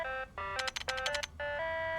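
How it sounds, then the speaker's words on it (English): A landline telephone rings in a detective video game, sounding as a bright electronic trill in short bursts with brief gaps between them, clear and close with no voices. "Suddenly to the detective's surprise, the phone begins ring ring ringing!"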